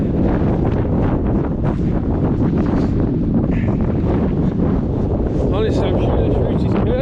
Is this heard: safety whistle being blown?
no